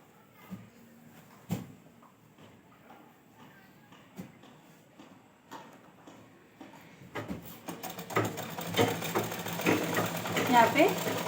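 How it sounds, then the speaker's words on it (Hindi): A sewing machine stitching the belt onto a ghaghra skirt, first with faint isolated clicks and thumps, then building into a continuous close whirring run of stitching toward the end. "मैं सिलाई लगा रही हूँ।"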